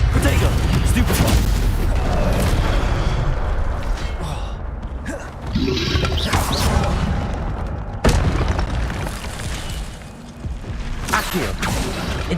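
Hogwarts Legacy spell blasts, continuous booming and crackling magical effects with creaking, layered under game music and a spoken incantation, loud and dense throughout.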